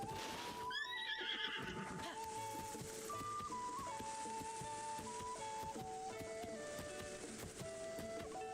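A horse whinnies loudly in a video game, a sharp neigh that falls in pitch near the start, followed by steady electronic game music and faint clip-clop in the background.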